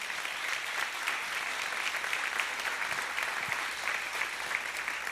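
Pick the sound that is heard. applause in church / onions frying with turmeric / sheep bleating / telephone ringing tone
applause in church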